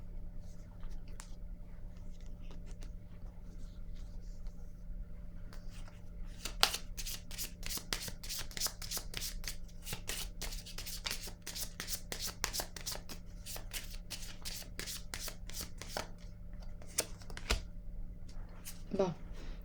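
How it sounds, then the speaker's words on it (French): Tarot cards being shuffled and drawn, a long run of quick, close riffling flicks in the middle, with softer card handling before and after, over a steady low hum and quiet speech. "Je vais piger une autre carte."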